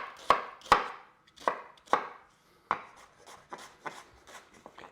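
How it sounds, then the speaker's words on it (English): A knife chops an onion on a cutting board in a series of sharp, distinct thuds, about a dozen cuts in an uneven rhythm, close and clear with nothing else heard. "But if you're just chopping an onion,"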